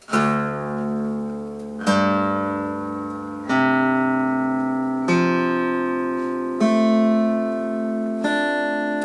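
An acoustic guitar is strummed in a low, dropped tuning, with several ringing chords struck one after another, each left to sustain and fade.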